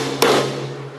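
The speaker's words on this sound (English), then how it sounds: "a little lump hammer," One sharp metallic tap from a small lump hammer striking a small 212cc or 196cc engine to knock out the governor, loud and close, followed by a brief ringing decay.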